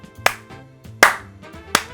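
Three slow, sharp handclaps land about three-quarters of a second apart, loud and close, over a faint low tonal hum in an otherwise quiet room.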